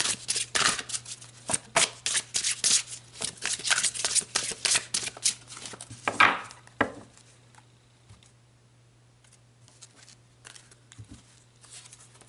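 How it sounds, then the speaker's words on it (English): Tarot cards being shuffled, a rapid run of crisp riffling and slapping card sounds over a steady low hum, then the shuffling tapers off into quieter handling and a few faint taps. "So let's pull some more cards."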